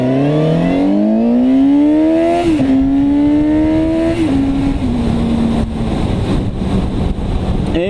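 A motorcycle riding through mountain roads drones loudly up close, its engine pitch rising through the gears and dropping at each shift over strong wind rush, with no talking.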